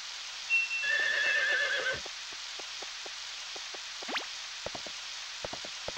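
A horse in Harvest Moon 64 whinnies once, a high wavering neigh, followed by steady rain patter and scattered soft taps and clops.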